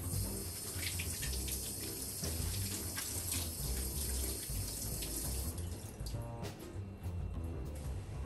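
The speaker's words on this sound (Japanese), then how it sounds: "はい、じゃあできたらこれ一回洗ってきます。" Okra pods rinsed under a running kitchen tap, a steady close splashing rush of water into a sink that continues unbroken, with brief shifts as the pods are moved under the stream.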